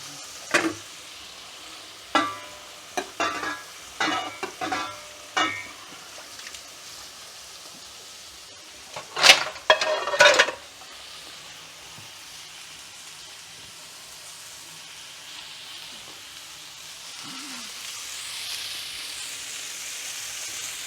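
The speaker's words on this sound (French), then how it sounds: "je laisse saisir, je touche à rien" About a kilo of meat sears in a frying pan, left undisturbed: a steady low sizzle runs throughout, with several sharp clinks and scrapes early on and a brief clatter in the middle.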